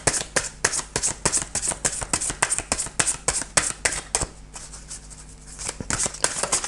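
Tarot cards being shuffled by hand, a steady run of crisp riffling slaps and flicks close up, continuing for several seconds with a brief softer stretch before the rhythm resumes.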